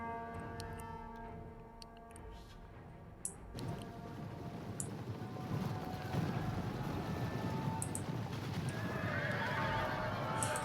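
Horses neigh and whinny on a Rome 2 battlefield, a few drawn-out cries that give way to a broad rumble of hooves and battle noise growing louder, with no voices.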